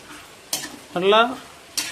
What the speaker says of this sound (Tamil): வெங்காயம் கூடவே தக்காளியும் நம்ம போட்டு வதக்கிக்கலாம்.